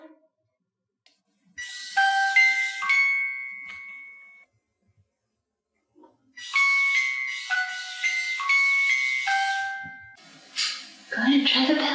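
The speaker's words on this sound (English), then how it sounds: "Go ahead and try the bell. I know you can do it." An electronic bell or chime at the haunted Pennhurst Asylum rings out in two separate bursts of descending ding-dong tones, loud and close, with a pause between them and a hissy tail at the end.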